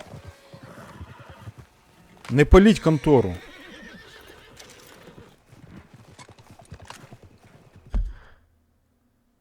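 Horses in Red Dead Redemption 2 whinny loudly in a burst amid clip-clopping hooves, with someone talking over the game sounds.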